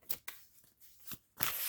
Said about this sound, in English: I will do my best not to make a mess while I shuffle it